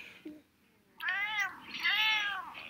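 A person imitates a cat with two drawn-out, whiny meows in quick succession, close and clear after a short quiet moment, in a cartoon setting.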